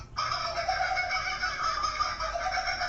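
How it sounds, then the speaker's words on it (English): A continuous, raucous kookaburra call with layered harmonic tones, edited and sped-up so it sounds unnatural, holding steady for about three seconds without pause. "a sped-up edited call of this Australian bird called a kookaburra"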